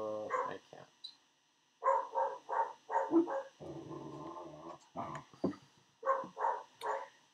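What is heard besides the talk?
dogs barking and growling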